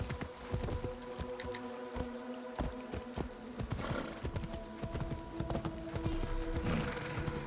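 Horse hooves clip-clop steadily in Assassin's Creed Shadows, a run of sharp, evenly spaced footfalls at close range over a busy game soundscape with an occasional whinny.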